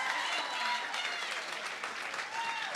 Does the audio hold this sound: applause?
yes